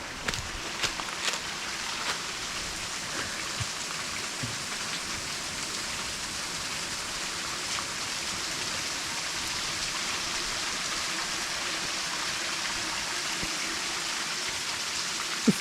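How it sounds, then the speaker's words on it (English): Small waterfall at Lost World Plateau in Lamington National Park, a steady close rushing wash of falling water with a few faint knocks. "It's still a waterfall."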